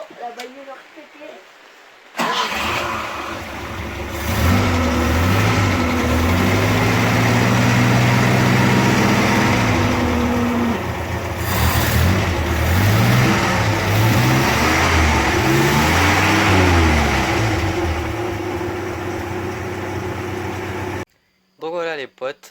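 Peugeot 403 pickup engine idling and revving in several rising and falling bursts, loud and close, running steadily for most of the stretch before cutting off near the end.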